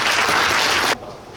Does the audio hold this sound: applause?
yes